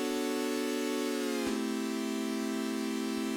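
A bright, buzzy sustained synth chord holds steady, then its pitch bends sharply down midway and settles into a lower chord that rings on.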